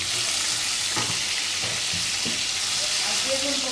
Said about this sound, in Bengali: এখন পটল ভাজিগুলো সুন্দর করে করে নেব।